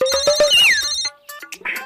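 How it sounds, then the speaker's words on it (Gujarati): A melodic mobile phone ringtone plays loudly and alone, a short bright tonal phrase with a rising-falling sweep, during a Gujarati family comedy scene. "તારો ફોન વાગે?"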